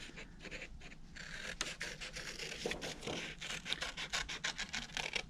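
Scissors snip through paper close by in a quick, irregular series of cuts and rustles, quiet and without any talking.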